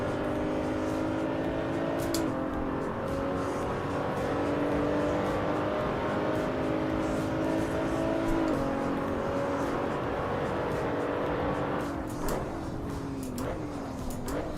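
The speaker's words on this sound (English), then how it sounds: "This car sounds a bit weird." Race car engine in the Assetto Corsa Evo sim racing game, a loud sustained drone with slowly shifting pitch as revs rise and settle, easing briefly near the end, continuous throughout.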